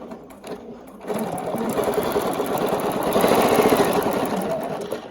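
A sewing machine stitches steadily while quilting a Georgia Beauty quilt with rulers, starting up after a brief quiet moment and running with a continuous, even whir that grows slightly louder near the end.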